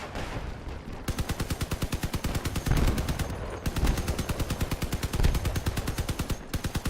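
Heavy automatic gunfire from a vehicle battle in the game Crossout: a loud, relentless stream of rapid shots at a steady machine-gun rhythm, broken by a few brief pauses, with no talk.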